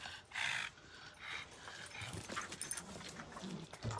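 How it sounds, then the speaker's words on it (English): An overexcited puppy in the room during a live home workout session, its scrabbling, panting and yelps coming in short bursts at moderate distance with no talk over it. "Very overexcited puppy tonight."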